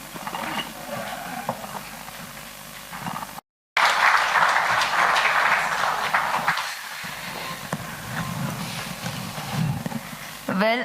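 Audience applauds artists on stage at a short-film screening event, broad crowd clapping with a brief dropout, then sustained hand-clapping mixed with voices and hall noise.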